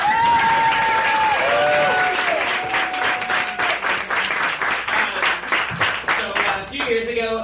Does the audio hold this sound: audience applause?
yes